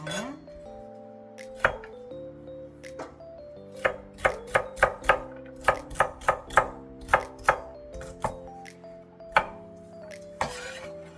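Knife chopping celery stalks on a cutting board in a home kitchen, a steady run of crisp, close thuds, some quick and clustered, others spaced apart, with faint clinks in between.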